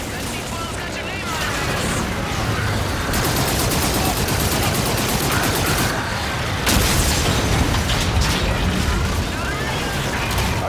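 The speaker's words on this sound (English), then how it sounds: "Inbound for gun run." Call of Duty Infinite Warfare aircraft gun run on anti-aircraft guns: sustained loud rapid cannon fire and booming impacts, continuous dense barrage with radio voices talking over it.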